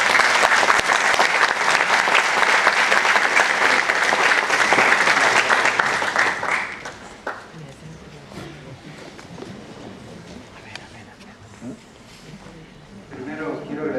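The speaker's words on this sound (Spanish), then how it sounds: "Fuertes palmas para recibir." Audience applause welcoming a speaker at a lecture event, dense loud clapping for about seven seconds before fading to scattered claps and room murmur, with a voice starting at the end.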